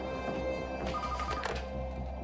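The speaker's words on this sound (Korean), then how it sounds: "그때 걸려오는 전화." A telephone rings with an incoming call, a bright repeated electronic ring sounding clearly over a low steady background hum.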